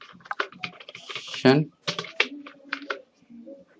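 Computer keyboard keys are tapped in short irregular bursts while writing C code, with someone talking steadily over the typing.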